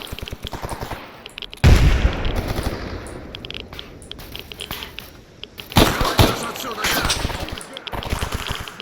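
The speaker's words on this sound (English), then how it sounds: "They're putting accurate fire down" Gunfire in Stalker Anomaly: bursts of automatic fire and single shots crack out from mid-distance, with two heavy loud volleys and scattered shots between them, and no talking.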